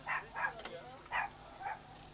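Four small, yappy barks in an irregular rhythm from a dog nearby at a campsite in Saint-Tropez, fairly soft, with no talking.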